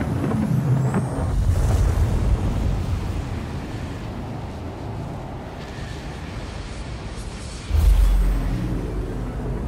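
A spaceship's quantum drive in Star Citizen 3.0 spools up with a loud, sustained rushing hiss and deep rumble, steady throughout and ending in a heavy low thump near the end.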